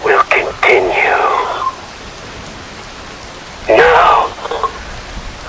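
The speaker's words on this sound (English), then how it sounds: "Wind blows, rain falls." Rain falling in Metal Gear Rising: Revengeance, a steady hiss beneath bursts of spoken voice that come and go.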